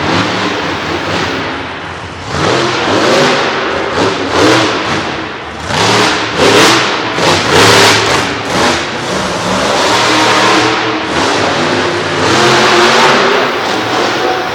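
A loud monster truck engine at a monster truck show in Du Quoin, Illinois revs hard and steadily, the roar surging and throttling up in repeated waves with no voices.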